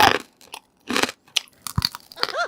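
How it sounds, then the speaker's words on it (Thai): Crispy Thai pork belly (moo krob) crunching loudly between the teeth, a series of sharp close-up crunches and bites spread across a couple of seconds with brief gaps, no talking. "คิดว่าน่าจะเป็นแบบความดังของหมูกรอบอ่ะ"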